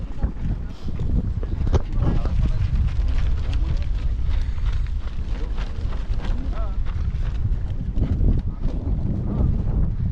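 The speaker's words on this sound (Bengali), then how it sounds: "এই দেখো ও হাওয়া দিচ্ছে" Wind gusts across a beach in the evening, buffeting the microphone with a loud, rough rumble that rises and falls irregularly for the whole stretch.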